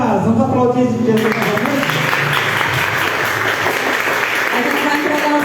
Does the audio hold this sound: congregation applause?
yes